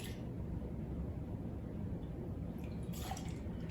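About 1.5 ounces of bourbon is poured for a Brown Derby cocktail, giving a soft, steady trickle of liquid close up that runs for a few seconds with no talking.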